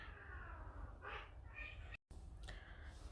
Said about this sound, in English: my cats were fighting.